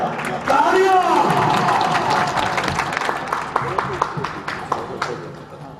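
Audience at a PPP workers' convention in Bhakkar, Pakistan breaking into applause and cheering, a loud swell of crowd noise early that settles into scattered, uneven claps, with voices mixed in.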